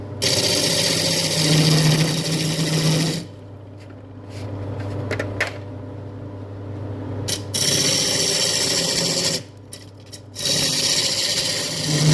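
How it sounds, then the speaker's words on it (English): Freshly sharpened gouge cutting a white mallee burl bowl on a wood lathe, a steady close rasping scrape broken by two quieter pauses where the lathe hum carries on alone. "Gotta love a nice freshly sharpened gouge."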